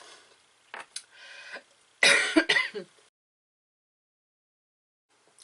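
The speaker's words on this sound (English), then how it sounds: "I stopped it before I went full-blown cough" A few short throat-clearing coughs close to the microphone, ending in a stronger burst, then silence.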